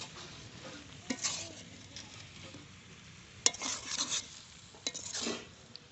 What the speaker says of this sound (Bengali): এবার কিছুক্ষণ নাড়িয়ে নামিয়ে নেব